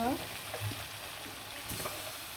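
Four goat heads fry in a thick, cooked-down spiced masala in a pan, giving a soft, steady sizzle over a short stretch, close and fairly quiet.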